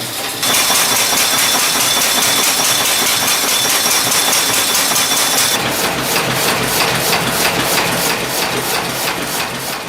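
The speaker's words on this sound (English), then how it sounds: "This 30-horsepower engine, built by Anderson Oil Engine Company, showcases the rugged simplicity of early diesel technology." A 30-horsepower Anderson Oil Engine Company diesel engine, an early model once used for irrigation pumps and industrial machinery, runs loud and close with a steady, rapid mechanical clatter and a regular thumping beat, and nobody speaks.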